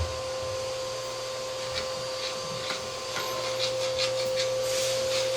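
A kitchen mixer grinds sugar into powdered sugar for shrikhand. It gives a steady, continuous motor whir with a droning hum that holds for the whole stretch, and no one speaks.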